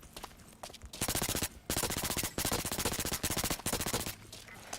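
The UPick SMG fires in the video game Blacklight Retribution in rapid full-auto bursts, several sustained strings of rattling shots separated by short pauses, loud and close with no talk.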